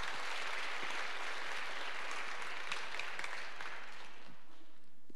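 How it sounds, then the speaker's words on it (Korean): A congregation at a church gathering applauds a testimony speaker, a dense, even roar of many hands clapping that holds steady and begins to thin near the end. "간증자에게 응원의 박수를 다시 한번 부탁드리겠습니다"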